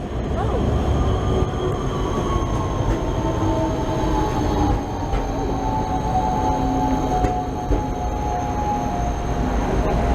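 A Prague tram rolling along rails near Staroměstská stop with a low rumble, squealing wheel tones and occasional clanks, loud and close, continuous for the whole stretch.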